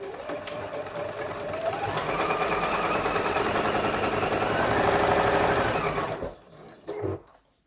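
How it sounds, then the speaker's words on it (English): Sewing machine stitching a fabric Post-it note cover, running steadily with a rapid needle rattle for about six seconds, then slowing and stopping with a few short bursts, close and loud with no talk. "I am going to back stitch here because this is going to be the beginning of our opening."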